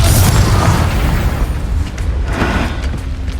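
Spell explosions from Confringo and Bombarda casts in the Hogwarts Legacy video game, a loud booming burst up front that rolls into a dense, rumbling wash with a second swell later on, no voices over it.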